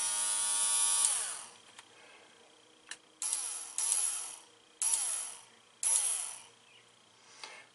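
A small RC crawler winch motor driven by a DIY controller built from an old ESC whirs in several short, quiet bursts separated by pauses, with faint clicks in between.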